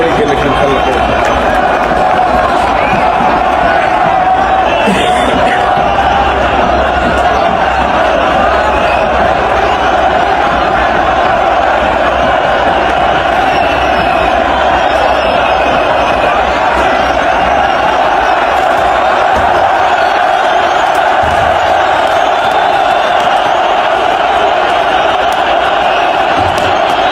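Al Ahly football fans fill a stadium with a steady, loud wall of crowd chanting and roaring that holds without a break, with voices blending into a dense, continuous mass.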